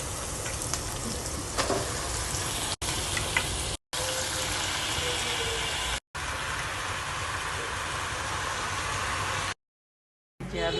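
Sweet potato greens fry in a pan, giving a loud, steady sizzle with bubbling hiss that runs continuously, broken by brief gaps of silence, with no talking.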